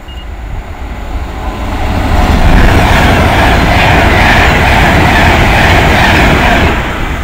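Pendolino 1S48, the Euston to Glasgow service, passes at Nuneaton, building from a rising approach into a loud, steady rush of wheels and air with clickety rail rhythm before easing at the end.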